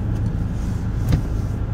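A 2013 Ford Focus ST idling at a traffic light, a low steady engine hum from inside the cabin with a brief faint tick, no talk.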